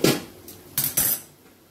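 A metal lid lifted off a cooking pan while making egg bhurji with onions, a few sharp clanks and clinks of metal on metal, close and short.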